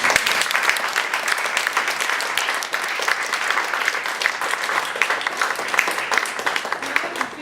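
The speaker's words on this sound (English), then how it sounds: "One last round of applause for" An audience at a humanities panel discussion gives a final round of applause, dense and fairly loud continuous clapping from a full room that holds steady throughout.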